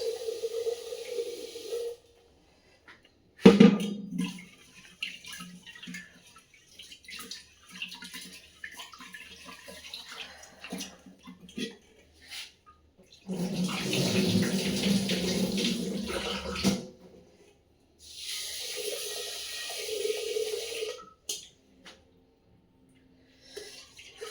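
Tap water running in a kitchen while water bottles are washed, bursts of splashing flow starting and stopping, with quieter gaps and a sharp knock between runs.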